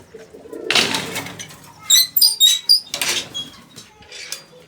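Pigeons coo and chirp close by, with short bursts of fluttering wings and a few sharp high calls.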